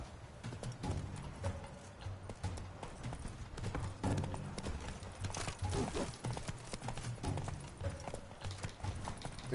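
Horse hooves clip-clopping at a gallop in The Witcher 3 video game, a steady driving rhythm under a dense, loud game soundtrack, with a brief whinny.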